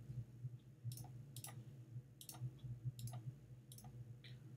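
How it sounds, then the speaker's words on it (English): Computer mouse clicks while drawing pixel art pixel by pixel, crisp close clicks falling singly and in quick pairs at an uneven pace over a low steady hum. "that's a lot of clicking I'm doing out because I'm doing it pixel by pixel."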